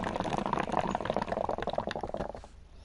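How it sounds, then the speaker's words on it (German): Bong water bubbles right next to the microphone, a close, continuous gurgling burble that fades out near the end, with no talk over it. "man hört es blubbern"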